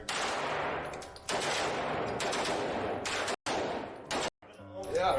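Gunfire from a Draco pistol at a gun range, long loud bursts of rapid shots broken by brief silences, with voices talking nearby.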